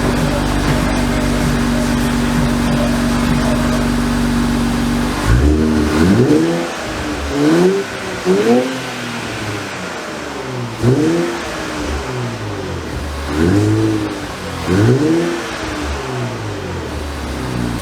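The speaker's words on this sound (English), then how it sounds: "Enjoy a little bit of a sound clip from the exhaust with stock cats on the car." A car fitted with a Fast Intentions catback exhaust and stock catalytic converters idles steadily, then is revved repeatedly, with a series of sharp, rising blips close to the microphone.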